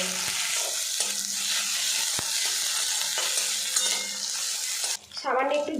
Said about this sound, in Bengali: আবারও ভাজা ভাজা করে নেব